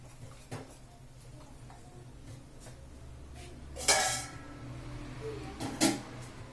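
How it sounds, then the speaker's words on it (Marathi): Boiling besan pithle is stirred with a spoon in a pan, with soft scraping and two brief louder clanks of metal on metal, heard close against a steady low background hum. "हे सतत हलवायचंय"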